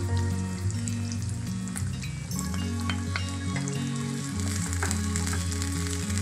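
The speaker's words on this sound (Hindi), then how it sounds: "प्याज को थोड़ा सॉटे करने के बाद हमने ये अदरक का जो पेस्ट बनाया था वो हम इसमें डालेंगे" Onion and ginger paste frying in a pan for mustard fish curry, a continuous close sizzle with a few stirring clicks, under a steady low hum of background music.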